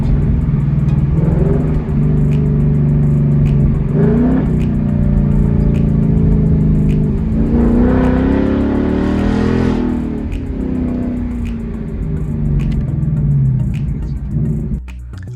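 A 2019 Mustang GT with a Borla Atak active exhaust rumbles loud and close, its engine rising and falling through several throttle blips as it downshifts, then a burst of revs near the end.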